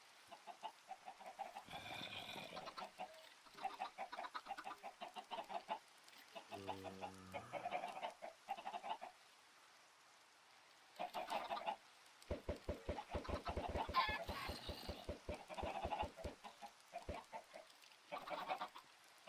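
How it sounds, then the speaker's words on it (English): Several Minecraft chickens cluck in scattered bursts amid blocky game sound effects, with rapid clicking runs and pauses between the clucks. "I'm throwing eggs, chickens."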